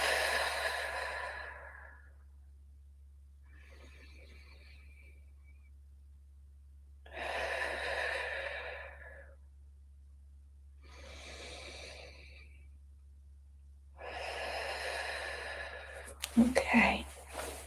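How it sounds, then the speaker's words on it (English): Big, deep breaths taken during a gentle morning stretching practice come close and clear as five slow, airy inhales and exhales separated by quiet pauses. "I'm taking a few big deep breaths here."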